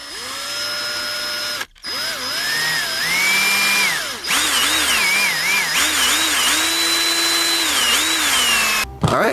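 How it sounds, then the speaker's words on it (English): A power drill backs Phillips screws out of a JVC MX-J900 speaker, its motor whining loudly in rising and falling bursts, with short pauses between screws. "You can just start unscrewing them."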